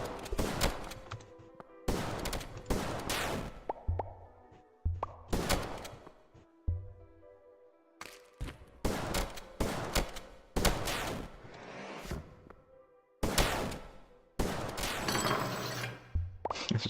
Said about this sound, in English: that sounds really bad when you hit the enemy with like all of the shotgun pellets at once